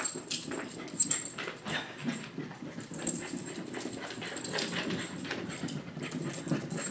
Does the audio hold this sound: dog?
yes